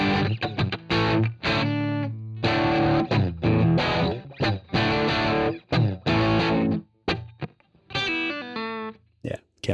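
An electric guitar runs through a Line 6 HD500 amp model with a boost for worship playing, giving crunchy, lightly distorted chords and choppy strummed bursts with short gaps, played close and loud.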